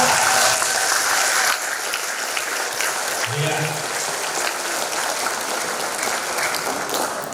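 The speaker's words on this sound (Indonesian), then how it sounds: "Kita beri tepuk tangan yang sangat meriah." An audience at a corporate training event gives warm applause, a loud dense burst of clapping that eases slightly after the opening seconds and keeps going, with a brief spoken word and a low murmur underneath.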